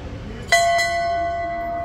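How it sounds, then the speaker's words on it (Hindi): A temple bell is struck once, loudly and close, with a second lighter strike just after. Its bright metallic ring hangs and slowly fades over low background noise. "घंटी बजानी है"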